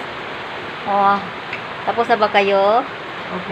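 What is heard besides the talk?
heavy rain at a boarding house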